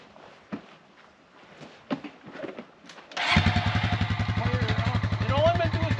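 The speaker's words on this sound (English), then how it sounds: "I'm just going to hop on the ATV." An ATV engine on a deer food plot cranks to life partway through and settles into a loud, steady, rapid chugging run, after quieter rustling and a few faint footsteps.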